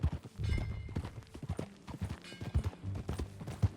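Horse hooves clip-clopping at a steady riding pace in the video game Red Dead Redemption 2, a rhythmic series of close hoof beats with brief snorts, no talk over them.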